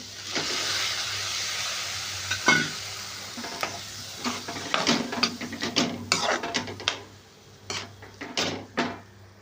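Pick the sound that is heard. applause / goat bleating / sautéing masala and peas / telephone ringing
sautéing masala and peas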